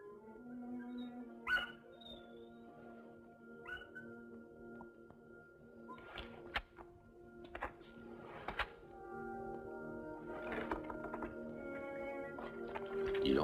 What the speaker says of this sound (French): Puis les chiens qui aboient joyeusement comme pour fêter l'arrivée de quelqu'un qu'ils connaissent bien.